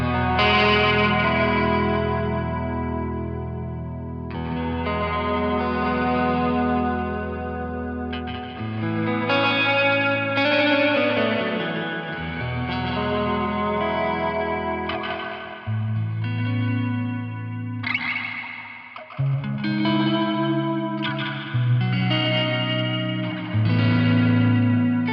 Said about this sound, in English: Let's hear the reverb up all the way, but it is pretty washy